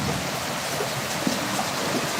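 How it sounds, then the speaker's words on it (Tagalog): Heavy rain falls in a steady, loud, broadband roar with occasional louder drops, continuous and heard on its own. "Ay, lakas ng ulan guys."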